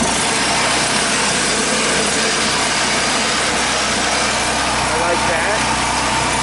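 A Champion portable generator engine runs loud and steady on choke, a constant buzzing drone with low rumble, while a person speaks briefly over it.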